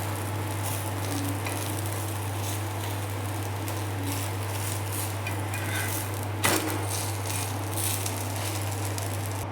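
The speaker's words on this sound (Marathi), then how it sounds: "असाच हा दोन्ही बाजूने उत्तापा भाजून घ्यायचा आहे." Rava uttapam roasting on both sides in a pan, giving a steady soft sizzle over a constant low hum, with a brief clatter midway and no talking.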